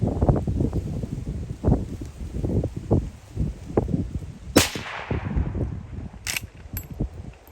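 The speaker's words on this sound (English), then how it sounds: "That water being inside that jug, as soon as that round hits it, it's got to go somewhere. Huge explosion from inside the jug." A Winchester Model 1894 lever-action rifle fires outdoors at a water-filled jug, giving one sharp, loud crack midway and a shorter snap later, over constant wind buffeting and rustling.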